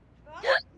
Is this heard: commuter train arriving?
no